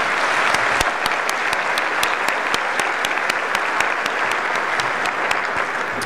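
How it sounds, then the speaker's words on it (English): An audience at a community breakfast event gives a sustained round of applause, many hands clapping steadily at close range with a few sharper individual claps standing out, with no voices over it. "A nice round of applause for Ann, Jess, the board, the great work that they do."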